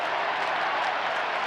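Huge crowd at the 1993 AFL Grand Final applauding and cheering, a dense, steady roar of clapping and voices that stays loud and unbroken throughout, with no commentary heard over it.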